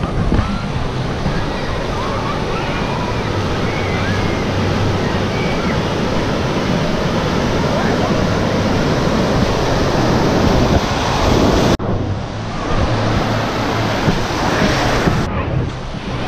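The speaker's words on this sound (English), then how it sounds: "We have a 7-foot wave to just come and destroy you." Seven-foot waves crashing in the wave pool at Typhoon Lagoon water park, a loud continuous roar of surf and rushing water with wind buffeting the microphone, holding steady for the whole stretch.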